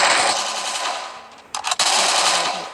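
Rapid automatic gunfire in a video game sounds loud and dense in a sustained burst, breaks off briefly into a few separate cracking shots, then resumes as continuous fire.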